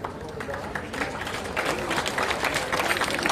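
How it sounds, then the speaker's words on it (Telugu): An audience at a district-level school science fair clapping together, a dense, continuous patter of many hands that swells slightly toward the end, heard from within the crowd with some voices mixed in. "గట్టిగా చప్పట్లతో కొట్టాలి సార్."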